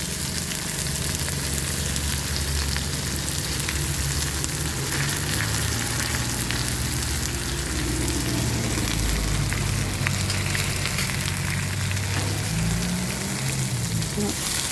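Cabbage stir-frying in coconut oil with popped mustard seeds, a loud, dense, unbroken sizzle with a low rumble and occasional stirring scrapes, close and constant throughout.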